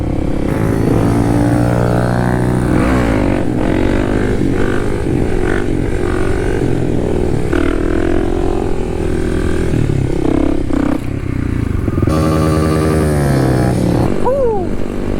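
A Kawasaki KLX dual sport motorcycle out on a street ride, its engine droning loud and close throughout with rising and falling revs, wind buffeting and the occasional rattle.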